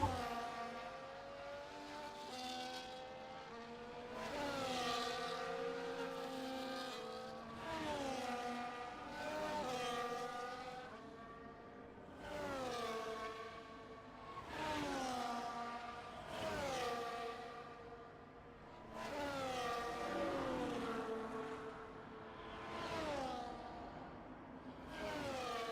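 Formula 1 cars in the F1 24 game race on a wet Portugal circuit with intermediate tyres, their engines whining and sweeping up and down in pitch as several cars rev and pass in repeated waves.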